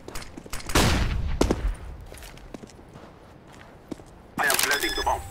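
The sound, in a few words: flashbang grenade thrown in Counter-Strike video game on de_dust2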